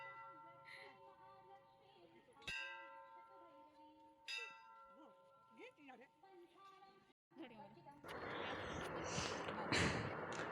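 A temple bell is struck twice, each ring clear and sustained, while people talk nearby; loud broadband rushing noise takes over near the end.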